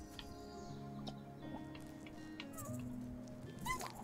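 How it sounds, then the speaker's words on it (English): A cat meowing in the game Chicory: A Colorful Tale, short faint mews set among soft game music tones and chirpy effects, with a light quick meow near the end. "Also, I heard a kitty."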